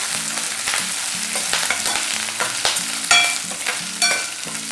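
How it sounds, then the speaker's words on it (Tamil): Shallots, curry leaves and dried chillies sauté in a pan for a roadside-style kara chutney, a steady close sizzle with repeated scraping stirs of a spatula and a faint tonal hum underneath. "சின்ன வெங்காயம், கருவேப்பிலை, எல்லாத்தையும் வதக்கிக்கணும்."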